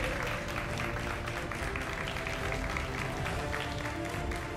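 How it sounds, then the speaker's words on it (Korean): Audience applause at a 2019 GSL Code S StarCraft esports award ceremony, as a player is welcomed to receive a consistency award trophy: steady, dense clapping from a crowd that fills the hall without a break. "박수로 환영해 주시기 바랍니다"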